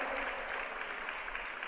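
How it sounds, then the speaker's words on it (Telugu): A church congregation claps their hands in praise during an Easter resurrection sermon; a dense, steady wash of many hands clapping together, fairly distant and even throughout. "చప్పట్లు కొట్టి దేవుని స్తుతిద్దాం"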